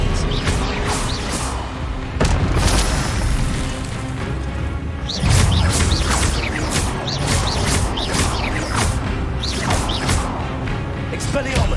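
Spell-casting effects from the video game Hogwarts Legacy, a series of loud magical bursts, whooshes and impacts over dense game sound and music, with sharp hits around the middle and several quick zaps toward the end.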